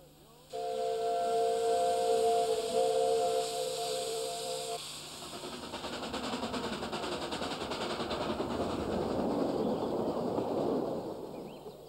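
A Ffestiniog Railway steam train sounds a shrill steady whistle for a few seconds, then a hissing, rumbling passage of steam and rolling stock carries on, fairly close and loud throughout.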